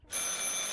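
A bell-type telephone rings in the horror game Martha Is Dead, a bright, steady metallic trill starting abruptly and sustaining at moderate loudness through a short burst.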